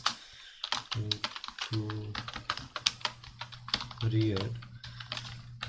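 Computer keyboard typing in quick clattering bursts runs through the clip, mixed in with someone talking about fonts while coding a small Tkinter text file project.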